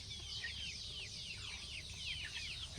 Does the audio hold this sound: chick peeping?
yes